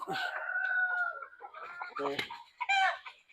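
Hens cluck and croak close by in short, uneven bursts, with a brief harsh squawk near the end.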